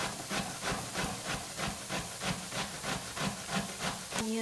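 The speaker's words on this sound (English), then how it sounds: "Onion caramelizing" Onions sizzle and caramelize in a pan for chicken, red lentil and vegetable soup, a steady crackling hiss with rhythmic pulses, close and continuous with no voices.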